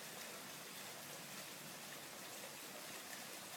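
Heavy rain pours steadily outdoors in a summer downpour, a dense, even hiss of falling water with no break, fairly close and with no voices.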